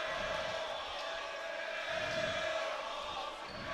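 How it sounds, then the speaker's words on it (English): Crowd noise at a Tier I championship high school basketball game between Valley Torah and DRS, a steady, fairly faint roar of fans jeering and cheering throughout with no clear speech. "DRS crowd letting him hear it."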